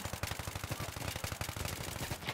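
Rapid automatic fire from an A-91 assault rifle in Battlefield 3, a dense sustained burst of closely spaced shots running the whole stretch, loud and close with no talk over it.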